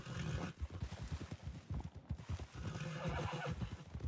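Horse hooves cantering in the video game Red Dead RP, a rapid rhythmic clip-clop of repeated hoofbeats, close and steady, with a whinny breaking in midway.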